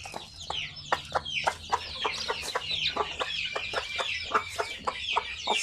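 Chicks from a cross of Basilan and Zampen native chickens peep steadily in a rapid, overlapping chorus of high chirps, fairly close and loud, with no one talking.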